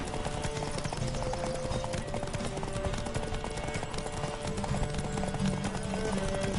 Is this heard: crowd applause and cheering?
no